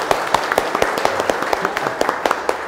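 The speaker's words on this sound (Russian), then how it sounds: "Давайте похлопаем." Office staff in Tashkent applauding together, a dense run of sharp claps spread evenly across the whole stretch with a murmur of room noise underneath.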